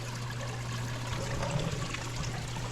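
Water trickles and splashes steadily down a koi pond waterfall, a soft continuous burble with a low hum beneath it.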